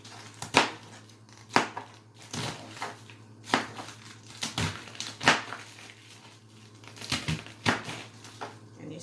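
A knife chops cabbage into bite-sized pieces, making about ten crisp crunching thuds at an uneven pace over a steady low background hum.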